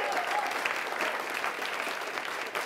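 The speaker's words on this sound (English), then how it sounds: "can we give a round of applause to all our top 40 winners tonight?" An audience at a live show applauds the top 40 winners, a steady wash of clapping from a crowd that holds evenly throughout.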